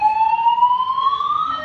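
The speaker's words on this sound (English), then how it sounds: "and then it's the fire alarm, but there's no fire." An airport fire alarm in Orlando, Florida sounds as a loud, steady electronic tone that sweeps slowly upward, sustained and unbroken, with no talk over it.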